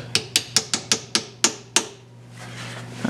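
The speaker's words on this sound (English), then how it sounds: "And hit it with the hammer a little bit." A hammer taps a DIY tripod extension arm in eight sharp metallic knocks, irregularly spaced over a couple of seconds and close by, followed by a low hum and faint rustling.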